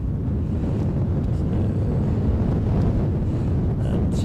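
Gusty wind buffets an outdoor microphone at a plane-spotting spot in Edinburgh, a continuous loud low roar with no clear voices.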